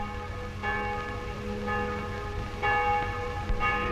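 Church bells ring out in a resonant, overlapping peal, with fresh strikes landing every second or so over a lingering hum, moderately distant and heard alone.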